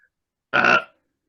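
A person forces out a single loud, gravelly burp in imitation of Barney from The Simpsons. The belch is short, about half a second, and close to the mic, with silence around it.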